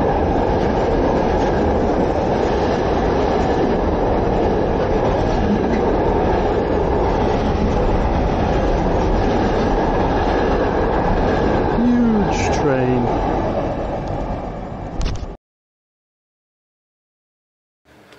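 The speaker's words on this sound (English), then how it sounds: "There was a train, I was right. It's just not stopping." A Tesco freight train rumbles past close by without stopping in Pitlochry, Scotland, steady and loud with clattering wheels and a brief metallic squeal near the end before it cuts to silence.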